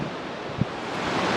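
The Presque River flowing through forest, a steady broadband rush of moving water with one soft knock partway through.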